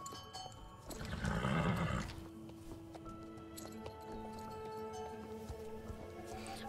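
A warmblood horse in Star Stable Online lets out a loud, drawn-out whinny lasting about a second, followed by quieter ambient game sounds with soft hoof and movement noises.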